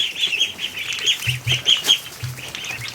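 Ducks quack repeatedly inside a pen among geese and goslings, a busy overlapping chorus of nasal calls close by with low honks mixed in, no talk.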